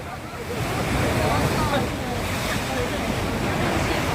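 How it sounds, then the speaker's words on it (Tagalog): Loud, continuous roar of heavy surf with wind buffeting the microphone; waves crash steadily throughout, and a voice can be faintly heard beneath. "Ang lalakas na ng alon!"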